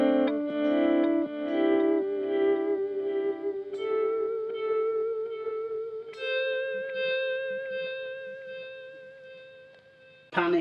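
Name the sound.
guitar slow echo effect on BOSS ME-50 multi-effects unit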